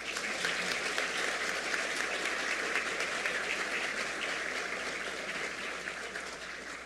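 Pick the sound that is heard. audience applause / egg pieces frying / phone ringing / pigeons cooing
audience applause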